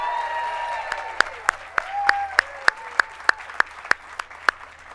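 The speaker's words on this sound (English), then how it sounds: "let's give a round of applause for Walk of Famer and film star Kathy Bates." An audience at a Hollywood Walk of Fame ceremony claps in a thin, sparse patter of separate hand claps, with tonal background sound underneath.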